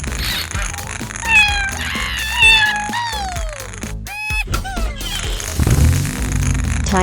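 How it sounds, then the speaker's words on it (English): A cartoon cat meows repeatedly in a 3D animal sliding game, with several rising and falling calls over music and game sounds. "It's cat,"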